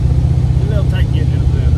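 Engine running with its alternator disconnected, revved gently and held at a steady low drone close by, with a brief rise in pitch near the middle.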